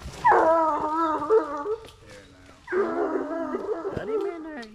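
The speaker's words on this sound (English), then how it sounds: "Dog's running." Hunting dogs bay while running on a coon hunt at night, two drawn-out bouts of loud wavering howls with brief gaps, close by and without talk.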